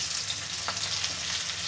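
Onions fry in oil in a wok (kerahi), a steady, close hiss of sizzling with a faint stir scrape partway through and no talking.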